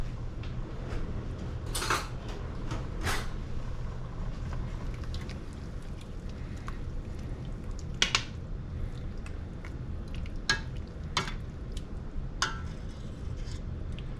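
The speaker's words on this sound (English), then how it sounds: "I'm going to use my potato masher" A potato masher works through homemade pasta sauce simmering in a pot, with a low bubbling bed broken by a handful of sharp metallic clanks and knocks against the pot at irregular moments.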